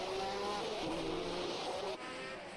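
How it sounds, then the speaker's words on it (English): A 1967 Formula One racing car with a Westlake engine is heard in a racing video game, its engine droning loud and steady as it revs through a final corner, the pitch shifting with the revs. "It's a lovely sounding Westlake engine."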